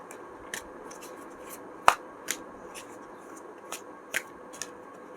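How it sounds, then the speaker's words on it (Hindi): Tarot cards being shuffled by hand, heard as a few soft, scattered flicks and snaps against a quiet room background, one sharper slap near the middle. "कार्ड्स अच्छे से शफल कर लेते हैं"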